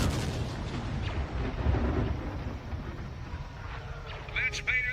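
Missile explosions during a Star Wars space battle: dense rumbling booms and blasts running throughout, loud and continuous, with faint electronic tones near the end.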